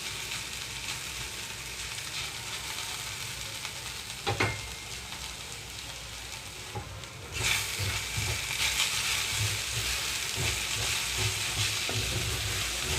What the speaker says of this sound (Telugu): ఇంకొక రెండు నిమిషాల పాటు ఇలాగే వేయించుకుంటున్నాను